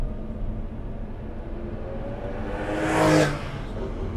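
A Lamborghini Superleggera engine idles with a steady low rumble, then swells into a brief louder surge as the car pulls away before settling again.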